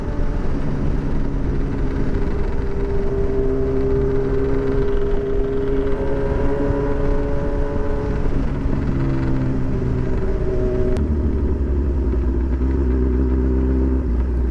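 A motorcycle rides through town traffic at 35 to 40 mph, its engine loud and close with rising and falling gear-change pitch sweeps as it speeds up and switches lanes, over steady wind and road rumble.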